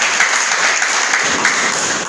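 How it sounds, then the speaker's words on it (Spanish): A church congregation breaks into steady, dense applause, a continuous wash of many hands clapping that fills the room without pause. "¿Cuándo le doy un aplauso a Él?"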